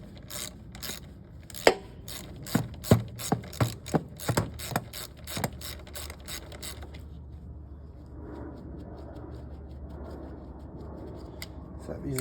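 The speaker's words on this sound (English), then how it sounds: "next you're going to take out these two screws" A ratchet loosening 9/32 screws on a lawnmower carburetor gives a rapid series of sharp close clicks for several seconds, then stops, leaving quieter handling noise with someone talking.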